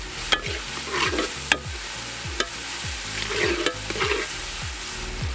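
Green chillies and salt being stirred and sautéed in a hot pan for a tapioca and tuna fish-head curry, a steady close sizzle broken by repeated scraping strokes of a spoon against the pan, with no voices.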